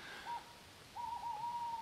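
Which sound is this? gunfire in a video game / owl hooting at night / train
owl hooting at night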